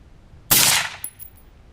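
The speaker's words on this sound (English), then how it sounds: "we'll go ahead and shoot frozen one and then an unfrozen one." A single sharp magnum rifle shot fired at a frozen milk jug, a loud close crack with a short decaying tail and faint echo, alone without talk.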